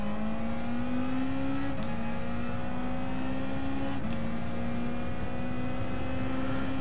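Race car engines in Gran Turismo Sport at Monza, a steady droning whine that climbs in pitch through two gear shifts as the pack accelerates from the start, loud and continuous.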